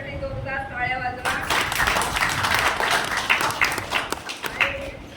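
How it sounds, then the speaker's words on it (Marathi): Audience applause for the winners of a Marathi story-reading and expression competition, a steady spread of clapping from the room that starts after a brief spoken moment and carries on with some talk mixed in. "सगळ्या तिन्हीसाठी जोरदार टाळ्या वाजवा"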